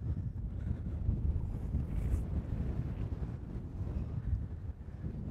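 Strong wind gusting across an exposed seaside golf course on an Irish island, a loud continuous low rumble of wind buffeting the microphone with no talking.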